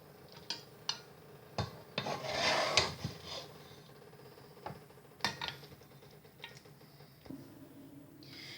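Okra and mutton curry being gently served out of a cooking pot, with intermittent scraping and rubbing of a utensil against the pot, soft knocks, and a denser patch of scraping partway through; no talking.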